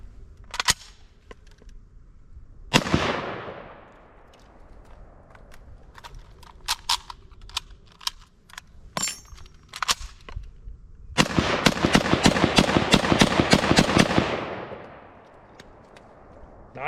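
SKS rifle fired outdoors in a string of sharp, loud gunshots, first spaced single shots and then a rapid burst of fire near the end, with ringing echoes trailing each report.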